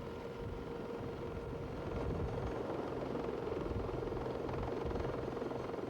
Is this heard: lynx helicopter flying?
yes